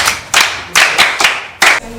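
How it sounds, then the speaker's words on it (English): A small classroom group claps for a child in several short, loud bursts of hand clapping close by, each lasting a fraction of a second with brief pauses between. "Clap for her."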